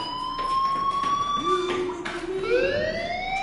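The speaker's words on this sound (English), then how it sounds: "do you hear that fire alarm?" A shrill electronic fire alarm tone sweeps and wails continuously over a noisy indoor background, with faint voices in the room beneath it.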